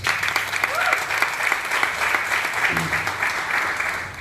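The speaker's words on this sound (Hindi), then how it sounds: "तो आपके लिए भी ताली हो जाए।" Audience at a church gathering applauding steadily for a pastor, a dense, continuous clatter of many hands that holds evenly from start to finish with a faint voice underneath.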